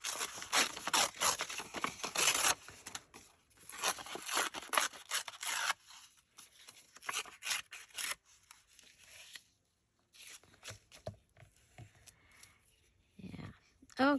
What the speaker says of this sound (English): Fast forward as I'm continuing to cut out papers